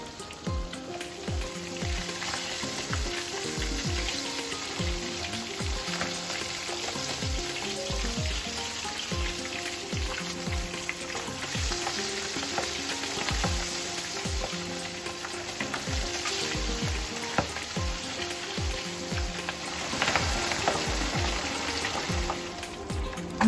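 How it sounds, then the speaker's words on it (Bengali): Pabda fish fry in hot oil with a steady, close, rain-like crackle. Frequent sharp spitting pops run throughout, and no one speaks. "মাছগুলো ভাজা হয়ে গেছে"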